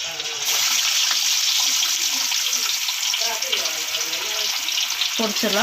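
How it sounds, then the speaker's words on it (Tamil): Kilangan fish frying in hot oil: a steady, loud sizzle and crackle that runs throughout, with scattered clinks and scrapes and a brief voice near the end. "இப்போ வந்து எண்ணெய் காஞ்சிருச்சு. இப்போ நம்ம மீன் ஒவ்வொன்றா பொரிச்சு எடுத்துடலாம்."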